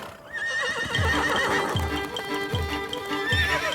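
Wild horses in Mongolia whinny loudly in several high, wavering calls, over a steady run of low, rhythmic hoof thuds close by.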